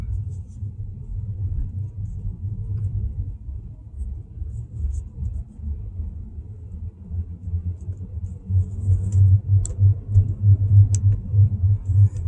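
Steady low road rumble fills the cabin of a 2019 rear-wheel-drive Tesla Model 3 while driving after a rear wheel bearing and knuckle replacement, a continuous droning hum that grows louder and heavier toward the end.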